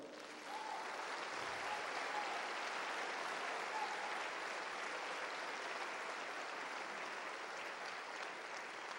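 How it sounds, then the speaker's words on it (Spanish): Congregation applause in a Spanish-language church service, a sustained dense roar of clapping from a large room, even and fairly distant throughout. "Denle otro aplauso al Señor."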